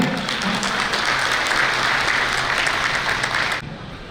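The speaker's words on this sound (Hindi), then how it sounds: "एक बार जोरदार तालियां।" Loud, dense audience applause at a Meena community gathering and biennial convention, steady for several seconds before cutting off abruptly near the end.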